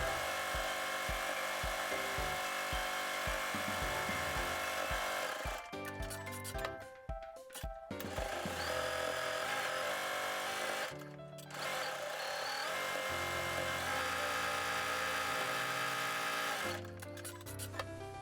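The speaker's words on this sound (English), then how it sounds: "now I'm top stitching along the edges using an 1/8 of an inch seam allowance." A sewing machine topstitches along the edges of a duffle bag handle, running in long steady whirring stretches that stop briefly and then start again.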